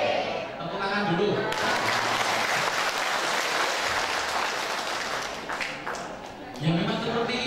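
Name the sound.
audience applause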